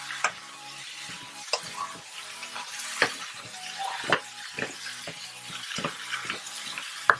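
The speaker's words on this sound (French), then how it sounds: "je vais rajouter une spatule en bois pour remuer" Wooden spatula scraping and stirring food in a hot pan, with a low sizzle running underneath and repeated sharp scrape strokes at an irregular rhythm, close and clear with no talking.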